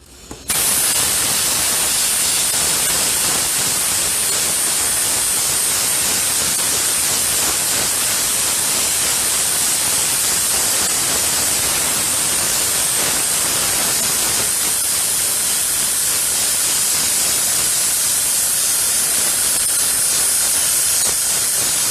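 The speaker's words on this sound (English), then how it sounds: "I am using the Testors acrylic airbrush paints mixed with a little bit of paint thinner" An airbrush sprays Testors acrylic paint thinned with a little paint thinner onto a tumbler, giving a loud, steady, continuous airy hiss that starts abruptly and runs unbroken with no talk.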